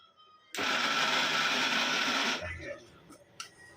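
A kitchen mixer grinder whirs loudly for about two seconds as it grinds prawns into a thick paste for a fried prawn lollipop recipe, then cuts off into quieter handling noise.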